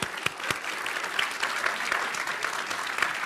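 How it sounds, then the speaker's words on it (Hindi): Studio audience applause at a televised Bihar election debate, steady crowd clapping with distinct individual claps popping out of the wash throughout. "तालियों के साथ दोनों का बहुत बहुत अभिनंदन"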